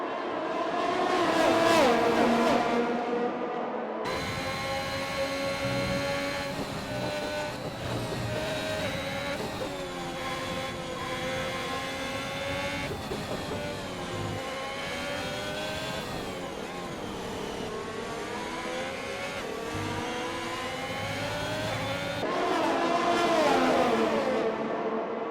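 Race cars in a racing video game run nose to tail in a tight train of several cars, engines droning and whining at steady high revs throughout, loud with shifting pitch as they pass.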